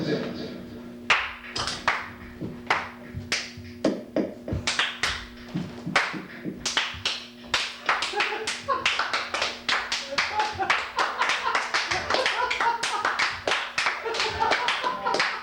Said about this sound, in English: What is this curious ritual where you clap your meat holes together?